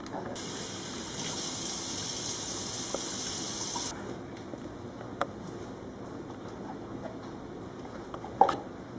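About 100 g of water poured into a batter mix of oil and vanilla, a steady gushing stream for several seconds, then quieter trickling ending with a small splash.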